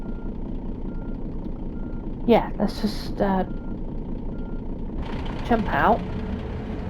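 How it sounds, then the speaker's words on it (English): A truck's engine left idling, a steady low rumble running underneath throughout while people talk over it. "So we can leave the engine running a minute"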